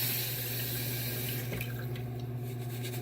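Water runs steadily from a tap while a man wets his head before shaving, a close continuous splashing flow with slight changes as hands move through it.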